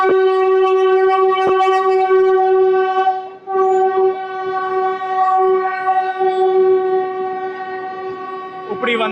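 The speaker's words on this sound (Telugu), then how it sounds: "ఇప్పుడు ఈ వందే భారత్ అయితే చెన్నై సెంట్రల్కి వెళ్ళిపోతుంది 11:45కి" A Vande Bharat express train sounds a long, loud, steady horn blast at a busy station as it leaves, the tone holding for several seconds with crowd noise and a brief break midway.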